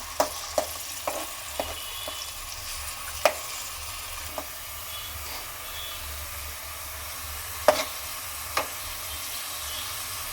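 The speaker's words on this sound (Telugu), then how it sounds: "ఇది పచ్చివాసన పోయేంత వరకు వేయించుకోవాలి." Ginger garlic paste sizzles steadily in hot oil, a soft continuous frying hiss with scattered sharp clicks and pops, several louder spikes as a spoon scrapes the pan; no voices.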